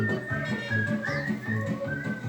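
Young pre-K children at a library story time whistle a simple tune together, producing thin, wavering tones in short repeated phrases over a quiet room.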